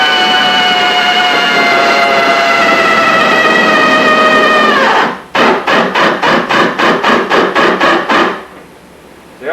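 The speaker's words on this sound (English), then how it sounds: "the next thing you're going to see me do is drill a couple of holes" Power drill spins up with a loud whine that winds down, followed by a rapid series of about a dozen sharp, evenly spaced bursts as holes are drilled, then quiet.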